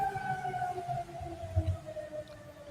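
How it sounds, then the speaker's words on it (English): Tornado warning siren sounding across open country in Kansas, a long steady wail with faintly drifting pitch, moderately distant and sustained over low rumbling background noise. "There's actually there's a lot of sirens that they can install."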